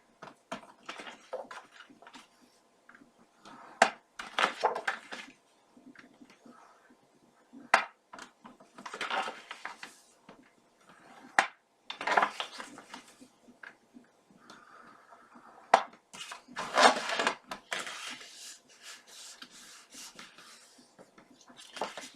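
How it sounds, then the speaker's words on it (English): Scoring a board for a handmade album cover: a scattering of short scrapes and sharp taps from the scoring tool, uneven and close, with quiet gaps between strokes and no talk. "So we're going to do the 3-side scoring"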